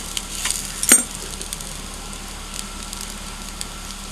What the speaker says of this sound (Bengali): এবার আমি এর মধ্যে জল দেব।